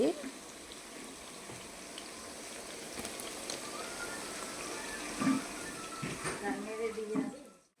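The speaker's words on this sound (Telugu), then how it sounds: "Deep fry." Bitter gourd slices deep frying in hot oil, giving a steady dense crackle and sizzle that runs throughout, with a few sharper pops near the end.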